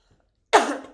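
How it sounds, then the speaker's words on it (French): A single, sharp cough from a woman, close and abrupt, after a near-silent pause. "je me mets à tousser"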